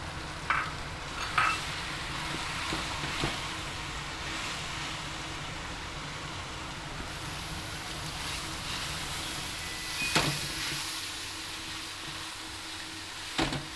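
Corn, carrots and capsicum sizzle steadily while being stir-fried in a pan for chicken corn pasta, a continuous frying hiss with a few louder scrapes and clatters of stirring.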